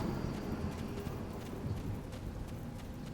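Horse hooves clip-clop in the video game Neverwinter, a quick run of faint, muffled hoofbeats over a low background rumble.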